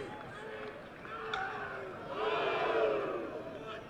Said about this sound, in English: Big crowd here.